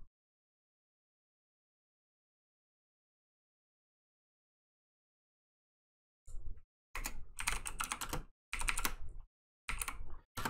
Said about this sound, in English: Does this annoy you, the keyboard?